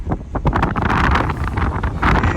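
Strong wind buffets the microphone high on Monte Rosa, above 4000 metres on icy ground, a loud continuous roar with gusting surges throughout and no talk.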